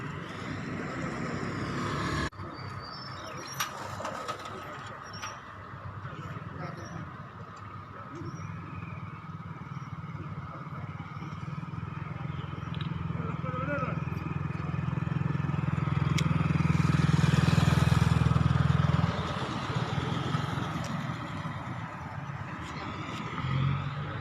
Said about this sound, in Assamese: আপোনালোক দেখাই আছোঁ মই কিছু বাইক যোৱা দেখা পাইছোঁ